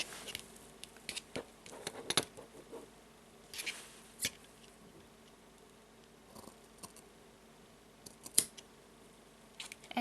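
Scissors snipping through yarn cord to finish a handmade surfer anklet, a few small dry clicks and snips scattered through a quiet tabletop scene.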